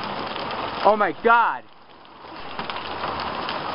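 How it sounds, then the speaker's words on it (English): Large quarter-size hail pelts down in a steady, dense patter, briefly covered by excited exclamations before the hard drumming of stones continues alone. "Holy crap, hail."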